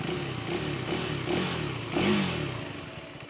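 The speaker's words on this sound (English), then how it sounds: "So this is how the bike sounds." A 2023 KTM 390 Duke motorcycle with a full-size underbelly exhaust idles and revs near at hand, its engine note rising in a couple of swells and then settling back.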